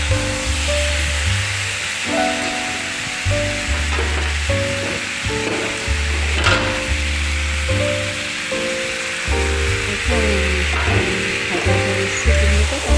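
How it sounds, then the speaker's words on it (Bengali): Potatoes and pumpkin frying in a pan, hissing and sizzling steadily in hot oil for the whole stretch, with occasional stirring scrapes, close and without talk. "আলুটা দিয়ে দিলাম, একটু ভালো করে ভেজে নিয়ে"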